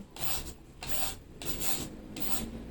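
A new papaya grater shreds raw papaya in close strokes, giving four rhythmic raspy scraping passes separated by short pauses, loud and near with no talking.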